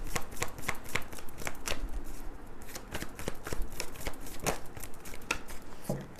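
Tarot cards being shuffled, a steady run of quick papery riffles and flicks close by, with no voices over them.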